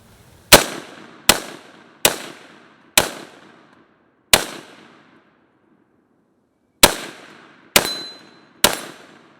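Rifle with a PSA curve bow drop-in trigger fired during a bump-fire attempt: eight loud, sharp reports with ringing tails, spaced unevenly, with one longer gap before the last three come quicker.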